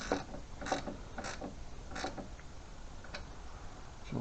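A small bolt is tightened at the top of a Lawnchief lawn mower, giving a few short, close creaks and clicks spread irregularly over a low, steady background.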